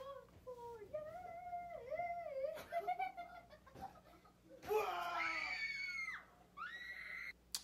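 During a scare prank, a person screams in fright, rising into high, strained shrieks amid laughter and excited voices, over a noisy, busy background.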